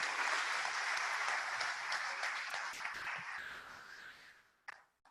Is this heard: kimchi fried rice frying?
no